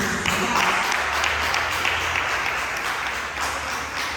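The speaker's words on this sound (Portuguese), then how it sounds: "Você pode aplaudir o Senhor." A church congregation applauding the Lord during a sermon; thick, continuous clapping from a large group fills the room, steady and fairly close, easing slightly toward the end.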